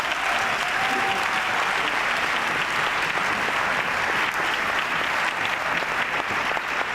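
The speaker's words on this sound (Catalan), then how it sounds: "Bon representant, fort aplaudiment." A circus audience at the Circ Raluy awards night gives steady, full applause throughout, a dense wash of clapping with occasional faint voices mixed in.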